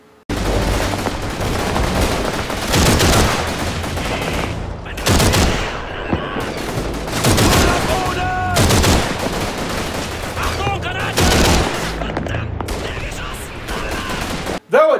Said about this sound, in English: you're now handling a Bren, a gun that I really don't like